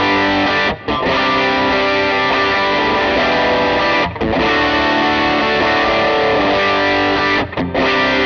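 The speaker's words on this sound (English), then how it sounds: "let's start with the AC30" Distorted electric guitar played through an AC30-style amp model on a Line 6 HX Stomp, a loud, sustained chordal passage with a few brief gaps where the strumming pauses, played alone.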